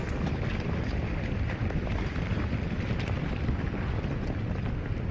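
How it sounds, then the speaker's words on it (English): An armoured personnel carrier's engine roars through an audio drama scene, a dense, steady rumble that holds at the same loud level throughout, with no voices. "The engine of the APC roars as we continue to race west across the dome."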